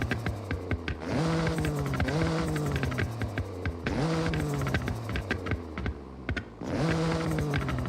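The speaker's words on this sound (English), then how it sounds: "it's popping and crackling now" Anti-lag turbo on a modified car in Forza Horizon, revving in repeated surges with sharp popping and crackling bursts layered over the engine note, loud and close, with no talking.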